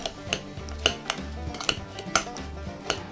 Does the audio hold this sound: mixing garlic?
yes